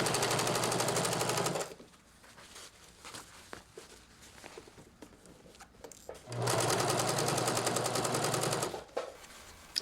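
A sewing machine stitches a seam on an unlined coat in two loud, steady bursts of fast mechanical whirring, separated by a quieter stretch of fabric handling and small clicks.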